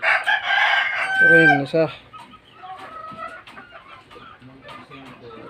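Gamefowl roosters, including a White Kelso, crow loudly and close at the start, then cluck and call more quietly. Someone talks briefly between the calls.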